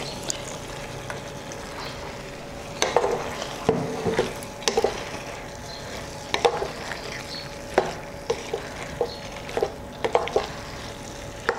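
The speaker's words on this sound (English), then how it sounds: "Give it a stir" Spicy arrabbiata red sauce being stirred in a pan, a spoon scraping and clacking against the metal in bursts over a steady background sizzle, close and moderately loud, with no voices.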